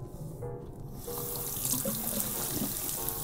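Running water from a tap rinsing off fine soap lather from an unscented MUJI bar soap, a steady close splashing stream that grows fuller after the first second.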